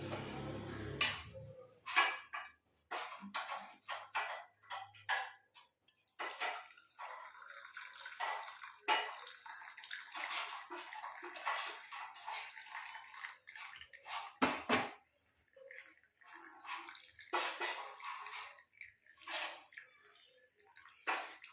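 Heated herbal hair oil strained through a strainer in a home kitchen, giving a run of small wet drips and splashes with irregular clicks and clatter, fairly faint and close, with no talking.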